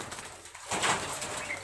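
Getibaj pigeons, young birds, make a short burst of flapping wings and soft cooing, faint and close, over quiet background noise.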